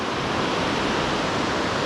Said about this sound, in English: this waterfall across here